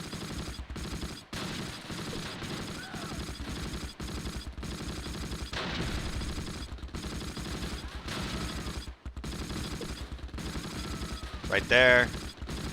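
Rifle and machine-gun fire rattles almost without pause in the Close Combat Last Stand Arnhem war game, with bursts of rapid shots layered over each other and a brief spoken remark near the end.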